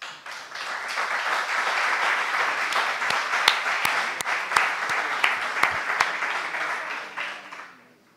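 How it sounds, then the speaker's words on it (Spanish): Sustained applause from an audience at a talk on World Heritage rock art, steady dense clapping for several seconds with a few sharper claps standing out, fading at the end. "Yo eh, invitaría a empezar esta mi charla con un aplauso para ellas tres."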